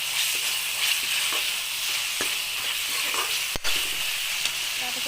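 Lightly crushed garlic frying in hot oil, a close, steady sizzle and hiss that runs throughout, broken by a few brief clicks and knocks from stirring.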